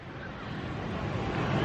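Pacific Ocean waves washing up at Santa Monica Pier at night, a close, continuous rushing surge of water building gradually in loudness over a short stretch, with wind buffeting the microphone.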